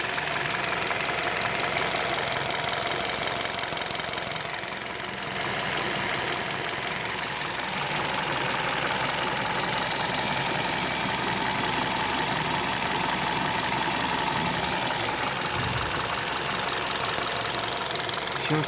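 A KIA Rio engine idling with a foreign knocking noise near the first and second cylinders, a steady close-up mechanical clatter and rattle running evenly throughout, with no talk.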